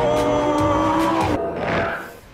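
Lamborghini Gallardo LP570-4 Performante, a 201 mph supercar, driving through mountains: a loud, close high-revving engine note rising and shifting, with brief tyre squeal and a fading roar at the end.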